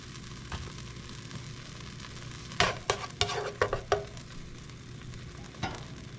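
Pork browning in a hot pan with a real spatula, a steady low sizzle under a quick burst of scraping strokes in the middle, then a single last scrape near the end.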